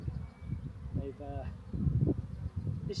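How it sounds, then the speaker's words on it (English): Honeybees buzz around a full beehive box after a swarm, a close, steady insect drone with brief higher whines, while people talk faintly nearby. "Bees on that."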